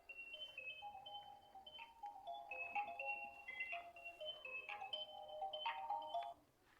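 A mobile phone ringtone plays a bright, repeating electronic melody for several seconds at moderate volume, then stops abruptly.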